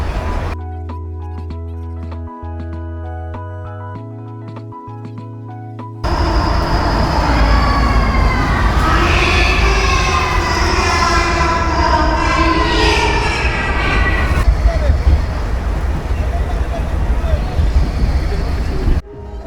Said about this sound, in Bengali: আমি এখন ট্রেনে রাইড করছি, আপনারা দেখতে পাচ্ছেন ট্রেন সামনের দিকে এগিয়ে যাচ্ছে।